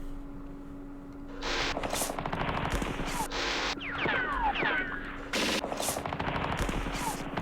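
Repeated bursts of machine gun fire in the World War II East Front war game Campaign Series East Front, several rattling volleys under a steady electrical hum, with brief whistling tones between bursts.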